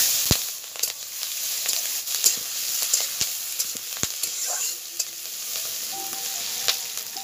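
Onion, whole garam masala and bay leaf fry in white oil and butter in a kadai, a steady close sizzle with scattered crackles and pops and occasional stirring scrapes, heard alone.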